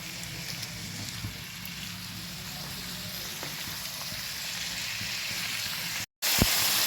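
Chicken fries in a pan with pepper powder, turmeric and salt, giving a steady, even sizzle with a brief cutout and a sharp click near the end.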